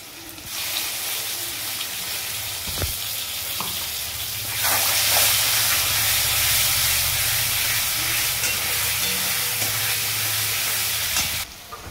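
Potatoes frying in a pan as onion, ginger and garlic paste go in, a steady hiss that swells into a louder sizzle after a sharp clatter, close and free of speech.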